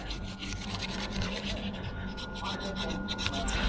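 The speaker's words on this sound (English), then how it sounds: "it's time to rub with the aluminium foil" Aluminium foil rubbed with Coke over old chrome, a steady close scraping rasp that runs continuously without pause.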